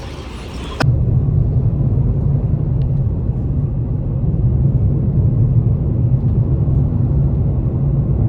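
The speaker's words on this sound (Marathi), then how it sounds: "गाडी येते आम्हाला इथेची पिक करायला." A car rumbles close by with a steady, low engine drone as it arrives to pick up passengers, alone without voices.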